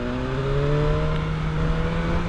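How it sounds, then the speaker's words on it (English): A BMW M1000R naked motorcycle pulls hard from a standstill toward sixty, its engine note rising in a loud, continuous, close-up roar with a steady climbing whine and no speech. "I kind of want to try 0 to 60, see what happens."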